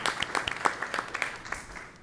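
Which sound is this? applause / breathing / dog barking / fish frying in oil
applause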